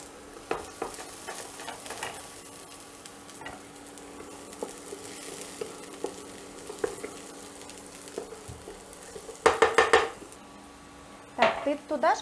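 Soft continuous sizzling of zucchini and garlic frying in a pan, with occasional scrapes and clinks of a utensil stirring, louder clatter near the end.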